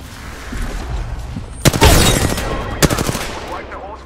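Apex Legends game fight: a frag grenade bursts amid rapid automatic gunfire, with sharp loud cracks and a heavy blast in the middle, over a low background rumble.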